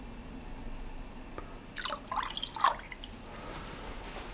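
Cold water poured in while making lamingtons comes through as a brief, faint trickle and a few drips in the middle of an otherwise quiet moment.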